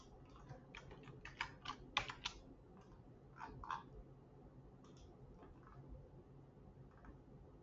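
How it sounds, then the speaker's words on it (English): Quiet bursts of clicking keystrokes on a computer keyboard, a rapid cluster of taps followed by a few scattered presses, close but faint. "I'll just type in add to cart"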